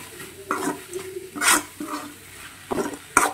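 A spatula stirs a cabbage and egg stir-fry in a pan with scraping strokes, about six in irregular rhythm over a faint sizzle, close and moderately loud.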